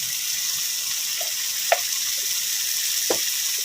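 Vegetable bhaji with tomato fries in a pan with a constant, even sizzle, close and steady, broken by a couple of faint clinks of a utensil, with no speech.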